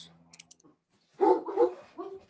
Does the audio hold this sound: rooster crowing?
no